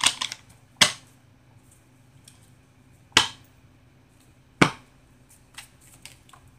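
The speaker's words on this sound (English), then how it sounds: "let's get into the cards, which I'm shuffling now. One more shuffle" Tarot cards being shuffled in quiet surroundings: a few sharp riffling snaps spaced a second or two apart, with fainter card taps in between, close and clear with no talking.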